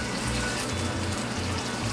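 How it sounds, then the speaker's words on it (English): A cup of water pours into a simmering fish masala stew, a close, steady splashing gush with a low bubbling undertone throughout. "and a cup of water"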